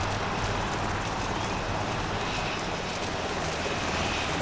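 A loud, continuous rotor roar from a landing helicopter close by in the video game Arma 2, steady and droning with no voices over it.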